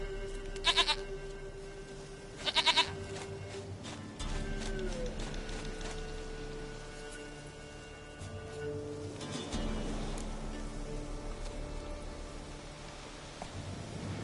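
In The Witcher 3, a goat gives two short bleats early on, set against steady, sustained game ambience tones that carry on afterward.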